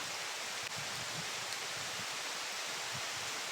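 Heavy rain pours outdoors as a steady, loud broadband wash with no pauses, a few faint low thumps scattered beneath it and no voices.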